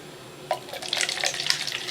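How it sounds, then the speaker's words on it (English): Mountain Dew Major Melon soda poured into a glass, a bright fizzy splashing stream with crackling carbonation, fairly faint and close, no talking. "Pour this out into the finest bachelor drinkware."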